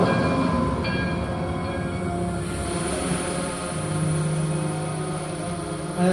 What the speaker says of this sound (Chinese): 有轨电车穿梭在古镇里边，古镇的新貌